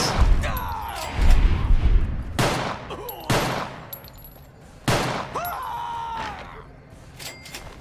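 Bursts of gunfire from Fallout: New Vegas come in several loud clusters of rapid shots, separated by short pauses and mixed with game effects and reverberant tails.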